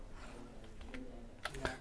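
A computer keyboard is typed on during Tally Prime accounting software work, faint scattered key taps followed by two sharper, louder clicks near the end.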